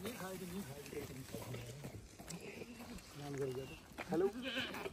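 Goats and sheep bleating in a forest, several calls mixed with voices talking nearby, the bleats standing out at moments above the chatter.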